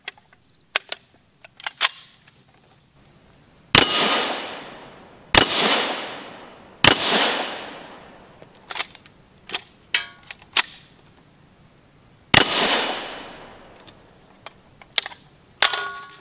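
Several 7.62x39 steel-core rifle rounds strike a bare steel plate, each a sharp, loud metallic crack with a ringing decay, spaced irregularly with smaller distant reports between.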